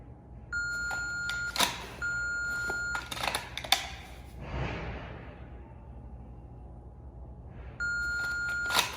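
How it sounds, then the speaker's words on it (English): A shot timer emits long, loud electronic beeps during a holster draw drill with a Glock 17, sounding three times with sharp clicks and clatter between them. "So we're gonna go ahead and start the PAR timer."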